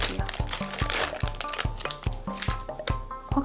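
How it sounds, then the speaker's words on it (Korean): Plastic packaging holding a Snoopy gacha figure is torn open and crinkled up close, a run of sharp rustling crackles in quick succession while a person talks over it. "그럼 이거 뜯어볼게요."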